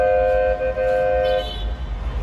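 Noisy Egyptian street traffic heard from a balcony, with car horns blaring: a steady honking tone over a low traffic rumble, fairly close and continuous.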